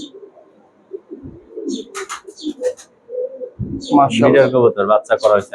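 Pakistani highflyer pigeons give low, murmuring coos close by, first on their own and then under a person talking.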